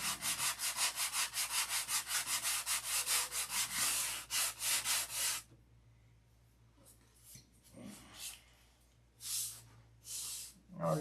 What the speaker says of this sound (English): If you sand on them, you'll cut right through.